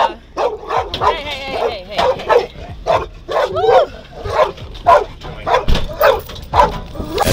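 A police dog barks repeatedly in loud, rhythmic bursts close by during an arrest of a police officer, with some voices mixed in.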